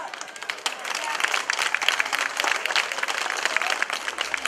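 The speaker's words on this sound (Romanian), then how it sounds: "Aplauze!" A crowd applauds at the 2018 Sărbătorile Coaşului folk festival, with dense, rapid clapping from many hands that swells slightly and holds steady for several seconds.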